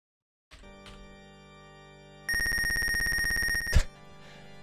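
Electronic beeping from the retro computer game Wizardry: Proving Grounds of the Mad Overlord, a few short tones and then a long loud buzzy chiptune tone that cuts off abruptly, alone with no talk.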